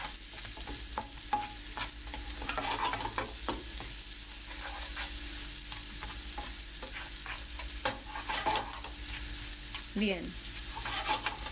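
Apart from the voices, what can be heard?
onion being sautéed in a pan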